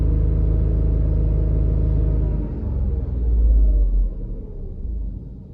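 Tata Nexon engine heard from inside the cabin around 3000 rpm, a low steady droning rumble that dips briefly and swells again, muffled and continuous.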